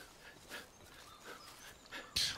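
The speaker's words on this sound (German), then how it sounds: "Und ich hole mal meinen kleinen Gefährten wieder mit dazu, den Hund." Dog companion in the game Far Cry 5 panting softly in short, quiet puffs, followed by a sharper sudden sound near the end, with no one talking.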